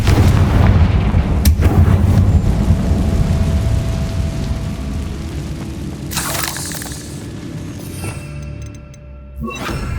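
A Confringo fire spell explodes in the Hogwarts Legacy video game, a dense booming blast with crackling debris that fills the whole stretch, tapering into a rumbling tail with sharp crackles near the end.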